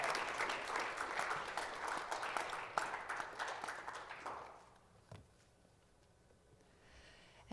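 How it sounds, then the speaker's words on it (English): Audience applause at a forum, a dense burst of hand clapping for several seconds that thins out and fades to scattered claps and quiet room noise. "would you please give a big round of applause to him"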